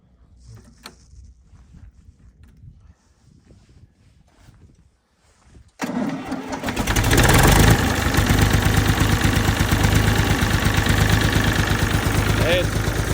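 A 1975 Same Minitauro 60 tractor fitted with new belts: quiet background with faint voices, then the engine catches about halfway through and settles into a loud, steady, close running roar that continues to the end.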